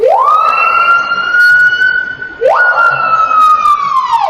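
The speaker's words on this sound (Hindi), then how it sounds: "इसकी आवाज को स्लो मोशन में सुनने पर ऐसा लगेगा जैसे कोई एम्बुलेंस या पुलिस की गाड़ी की आवाज हो।" A tiha bird's call slowed down so it rises and falls like an emergency vehicle siren, two long sweeping wails with a sharp dip between, loud and alone.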